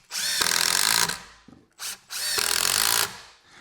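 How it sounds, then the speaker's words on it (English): A power drill pre-drills holes into 2x4 lumber in three loud, close bursts: two long whining runs separated by a short blip, with brief quiet gaps between them. "Just pre-drilling so that we don't split the wood"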